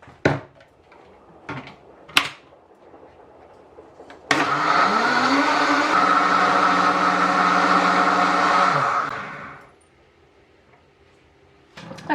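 A blender filled with water and Fairy washing-up liquid runs for about five seconds. Its motor spins up in pitch, holds a steady whir, then winds down into quiet, with a few light knocks before it starts.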